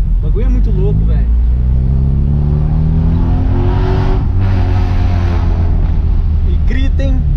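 A stanced Volkswagen Voyage on air suspension with a straight-pipe exhaust and only a catalytic converter revs hard and loud. Its deep engine and exhaust drone stays close and continuous, with a voice speaking briefly over it.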